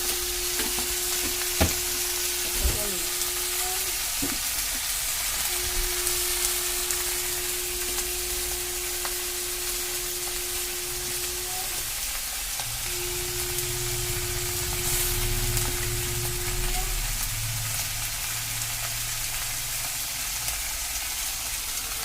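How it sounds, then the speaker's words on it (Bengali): Mixed vegetables fry in a wok with a soft, continuous sizzle, broken by occasional scraping and stirring sounds and a faint steady tone in the background, all quiet and close. "ঠিক আছে, কড়াইতে ঢেলে দেওয়ার পর একটু নাড়াচাড়া দিলাম।"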